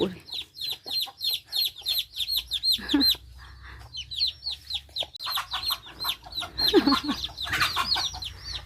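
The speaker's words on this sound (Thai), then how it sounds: "โอ้เป็ดไก่ตีพุ่นเนาะ" Chickens cluck and squawk busily in a lively chorus, with small birds chirping throughout and some background murmur.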